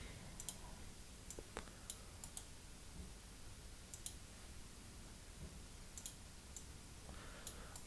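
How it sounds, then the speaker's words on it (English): A computer mouse clicking during diagram work on a PC, a dozen or so faint, sharp clicks, some in quick pairs, scattered irregularly over a quiet hiss. "I'm right clicking for the tutorial purposes."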